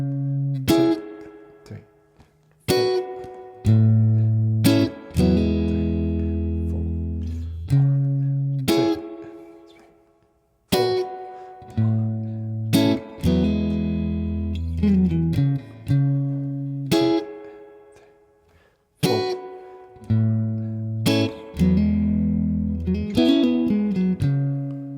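Clean electric guitar playing the second verse of a song: plucked chords and bass notes in a steady, unhurried rhythm, each phrase ringing and fading, close and solo with no talking.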